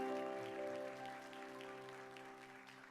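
An audience at a Korean church young-adult worship service claps to welcome a visiting missionary speaker, a dense, steady applause over sustained keyboard or organ tones that fades slightly over three seconds.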